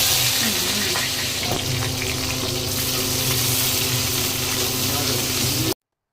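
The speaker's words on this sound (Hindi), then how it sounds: "उसके बाद प्याज को भी हम फ्राई करेंगे।" Onions frying in a pan for kadai paneer give a steady, dense sizzle that runs nearly unbroken from start to finish at close range, with a faint low hum underneath and no talking.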